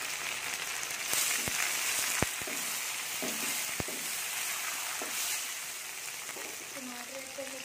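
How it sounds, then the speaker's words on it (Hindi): Tomatoes going into frying chana dal masala: a steady, close hiss of sizzling oil broken by scattered sharp clicks of utensils on the pan, with a faint voice near the end. "तो अब हम इसमें अपने टमाटर ऐड करेंगे।"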